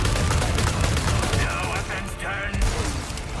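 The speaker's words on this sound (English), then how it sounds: "Oh, he's shooting." Enemy gunfire in Resident Evil 4 Separate Ways: a quick run of loud, close shots and impacts packed into a few seconds, with a voice talking briefly over them.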